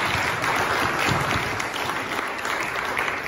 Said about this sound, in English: Please give a big round of applause to Rory.